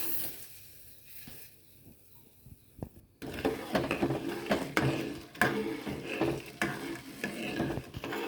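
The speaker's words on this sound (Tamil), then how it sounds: "வெல்லம் கரையிற அளவுக்கு காய்ச்சினா போதும்." Powdered jaggery stirred in hot water in a pan, quiet at first, then repeated scraping stir strokes with a soft sizzle, close and steady.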